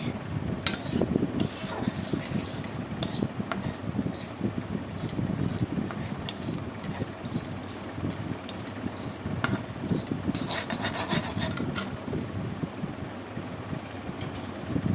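Semolina is lightly fried and stirred in a pan with cardamom, giving steady scraping and clinking of a utensil against metal over a constant faint hum.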